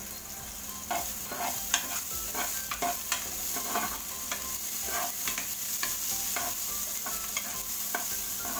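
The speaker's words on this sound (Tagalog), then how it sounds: "Ilalagay na po natin yung sibuyas." Onions are tossed into browned garlic sautéing in a pan for pinakbet with dried fish, a continuous close sizzle broken by repeated spatula scrapes and taps as they are stirred, with no talking.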